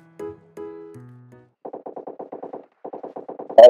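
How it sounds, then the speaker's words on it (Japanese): Automatic gunfire in the mobile battle-royale game PUBG Mobile: a couple of rapid bursts of evenly spaced shots, clean and fairly close, preceded by a few tonal game sounds and ending in a louder burst. "正面銃声"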